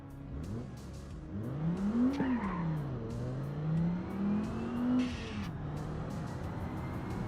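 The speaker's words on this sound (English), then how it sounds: "Just the sound of the turbo is not the best." A turbocharged 2004 Volvo engine in a sim racing game revs up and down in long smooth sweeps, its pitch climbing, dropping and rising again, with turbo whine on top and a brief hiss near the end, heard alone.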